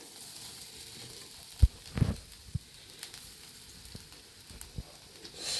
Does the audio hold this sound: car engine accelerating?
no